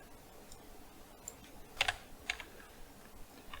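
Typing on a Magic Eagle computer keyboard, a quiet run of scattered key clicks with a few louder taps, close and alone against faint room noise.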